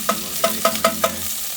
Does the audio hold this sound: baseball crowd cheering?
no